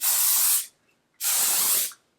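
Two short bursts from a heat protectant hair spray aerosol, each a loud close hiss lasting about half a second, separated by a brief silence.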